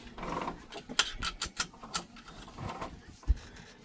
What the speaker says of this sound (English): So I get back on my seat, put on my seat belt